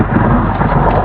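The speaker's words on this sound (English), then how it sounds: "It's raining like crazy out here." Heavy rain pours down during a thunderstorm while a truck is out in bad weather, a loud, dense roar of rain and thunder close by with no talking.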